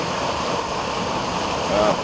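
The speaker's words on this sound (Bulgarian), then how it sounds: "Тук ще видите малко рекичка от Боянския водопад" A small stream flowing from the Boyana waterfall on Vitosha makes a steady, close rushing wash of water throughout, with a voice faintly present beneath the flow.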